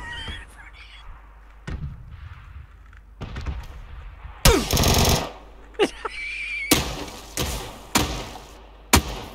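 A grenade detonates in the shooter game PUBG, a loud broadband blast around the midpoint followed by further sharp bangs and gunfire-like bursts, with players talking and reacting over the noise.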